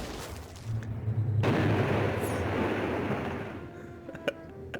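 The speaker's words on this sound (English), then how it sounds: "Gotta admit, that's pretty cool explosion." Large cinematic explosion from the film Battlefield Earth, destroying the planet Psychlo: a sudden loud boom that swells into a long roaring rumble, then fades over a few seconds, with faint sharp crackles near the end.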